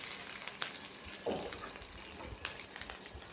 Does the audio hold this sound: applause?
no